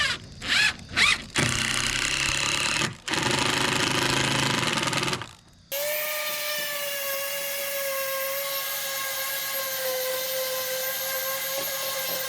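A power tool drives screws into a reclaimed-material outdoor kitchen frame: several short loud bursts at first, then a long steady high whine as the motor runs continuously, close and alone without talk.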